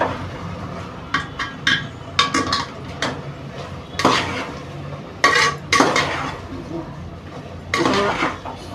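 A spoon stirs soft mawa in a pan for carrot halwa, producing irregular scraping and clinking knocks against the metal in uneven bursts with quieter gaps between.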